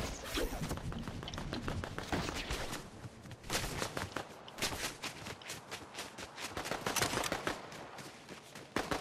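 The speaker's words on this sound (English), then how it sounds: "someone's shooting at us" Gunfire in a Fortnite squads match crackles through the clip as dense bursts of rapid shots, fairly faint and distant, mixed with footsteps and thuds and broken by quieter gaps.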